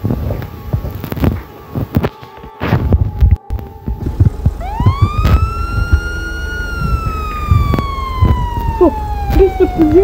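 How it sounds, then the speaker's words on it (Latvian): A police siren in the game Melon Playground rises and then wails in a long, slowly falling tone, loud and near, following a stretch of scattered clunks and thumps that continue beneath it. "tu dzirdi tikko sirēnu?"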